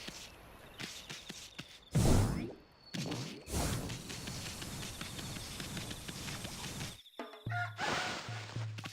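Chickens in the Okami video game clucking and fluttering in a series of brief, sharp bursts with scattered footstep-like taps, fairly close and with no talking.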